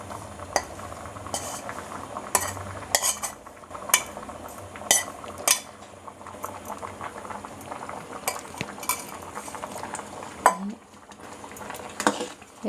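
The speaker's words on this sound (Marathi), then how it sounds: "असं हलवून घ्यायचं सगळं." Wheat kheer with jaggery and coconut being stirred in a pot on high heat as it comes to a boil, with a spoon repeatedly clinking and scraping against the metal over a soft bubbling background.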